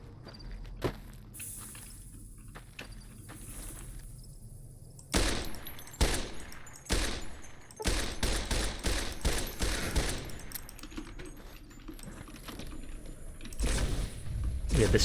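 Gunfire in Fallout: New Vegas on very hard difficulty: a quieter stretch with a lone shot, then a fast volley of loud, close cracks firing in rapid succession, with a voice talking throughout.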